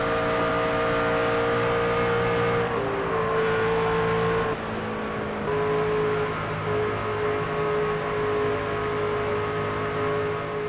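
NASCAR stock car engine from the NASCAR 25 racing game at Texas, a loud steady roar with shifting pitch as the car holds speed and revs through a lap, with no talking.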